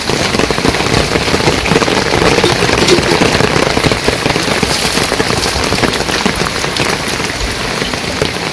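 Heavy rain falls steadily in a village during the rainy season, a loud, dense, continuous patter of drops on surfaces with no voices.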